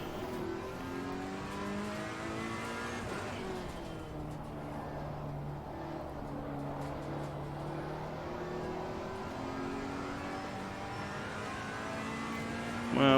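A Ferrari race car engine in the racing game Assetto Corsa Competizione, sustained and loud, rising and falling in pitch through gear changes as the car drives on, heard alone with no talk.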